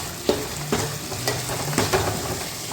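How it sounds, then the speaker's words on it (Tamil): Onions and tomatoes sauté in a pan for a chicken curry, a soft steady sizzle broken by several rhythmic scraping stirs of a spoon against the metal. "அங்கே வெங்காயம் நல்லா வதங்கிட்டு இருக்குது"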